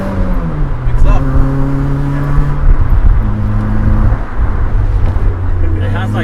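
A JDM car accelerating on the road, engine pitch rising through the gears in loud, close sweeps with a brief shift dip, heard from the cabin while people talk over it.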